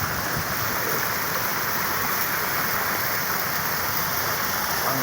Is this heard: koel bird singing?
no